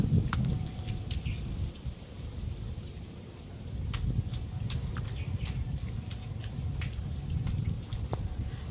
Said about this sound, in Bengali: সকাল থেকেই পাঁশকুড়া সহ বিস্তীর্ণ এলাকায় শুরু হয়েছে বৃষ্টি